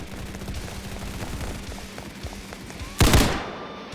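Rapid gunfire in the shooter game Hypershot crackles as a string of sharp, uneven shots, then one loud, close blast bursts out near the end.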